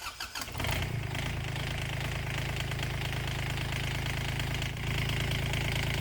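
Turbocharged Kubota D722 three-cylinder diesel fitted to a Honda cranks briefly, catches and settles into a steady, loud, close idle with no talking.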